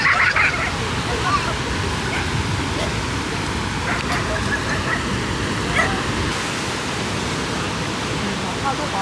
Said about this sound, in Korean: 개싸움 났어